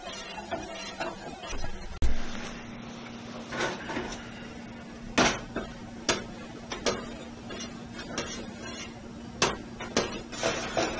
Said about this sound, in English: And you want to keep stirring it constantly.